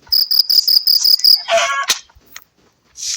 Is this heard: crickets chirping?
yes